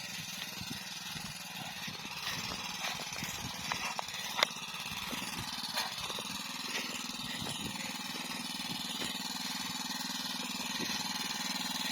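A tractor engine runs in a field at a steady, moderate drone, heard from some distance with a few faint knocks and clatters over it.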